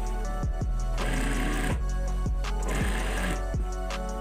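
A sewing machine stitching curtain fabric, its needle running in a close, steady whirring chatter with brief stops and restarts between runs.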